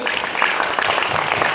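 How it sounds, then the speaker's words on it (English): Seminar audience in Bahrain clapping harder, a sustained dense burst of applause from many hands, loud and even across the whole stretch with slight crowd noise underneath. "And he'll do it better if you clap harder."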